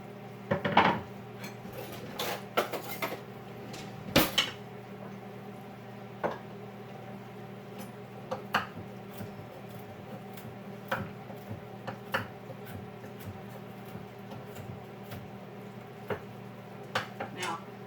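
Pecans being chopped for a gluten-free fruitcake, a scattered run of knife taps and clacks against a cutting board, with a couple of louder knocks near the start and lighter irregular taps after.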